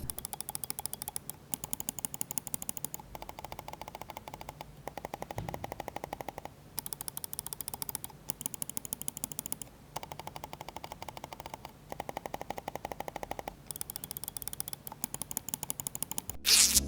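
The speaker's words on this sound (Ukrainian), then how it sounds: "Просто для порівняння послухайте, як звучить ламзу Maya." Clicks from a Lamzu Maya gaming mouse with optical Omron switches come in quick, sharp bursts of rapid repeated presses separated by short pauses, close up and alone.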